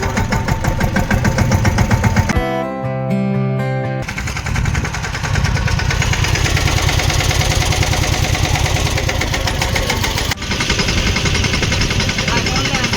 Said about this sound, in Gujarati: આપણે આ ટ્રેક્ટર ચાલુ કરી દીધું છે, તો હવે ચલાવી લઈ.